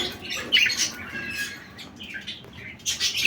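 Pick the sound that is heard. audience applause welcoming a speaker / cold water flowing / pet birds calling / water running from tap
pet birds calling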